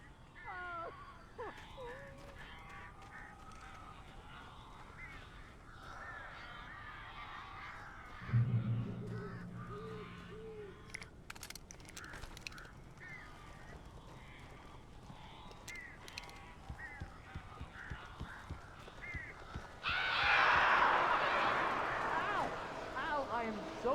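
Strange croaking, cawing bird calls in the game Alan Wake, scattered bursts inside a room with a blocked chimney, mixed with game talk and a loud flurry of wing and call noise near the end.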